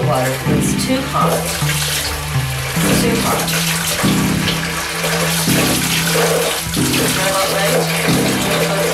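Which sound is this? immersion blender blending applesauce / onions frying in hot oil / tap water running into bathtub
tap water running into bathtub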